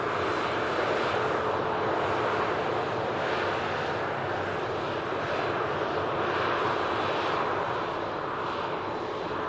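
An airliner climbs out after takeoff at Manchester Airport with a steady, loud engine roar. The sound holds at an even level throughout, with some wind rush and no voices.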